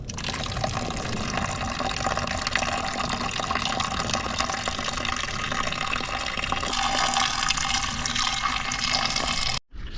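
Fresh Ribena berries being washed under running water, a loud continuous rushing pour like a tap filling a container, steady throughout and cutting off briefly near the end.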